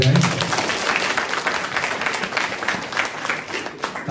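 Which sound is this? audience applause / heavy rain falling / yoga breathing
audience applause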